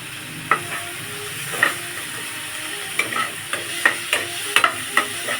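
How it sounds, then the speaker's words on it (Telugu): Carrot pieces being stirred into masala pasta in a pan, a soft steady sizzle with a dozen or so sharp scraping clicks of the spoon at an uneven rhythm, close and moderately loud, no talk. "బాగా కలుపుకుందామండి."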